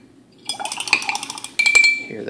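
Rapid clinks and rattles of a brush against a glass pickle jar holding paint water, in a quick ringing series, then a second burst with a sustained bright ring.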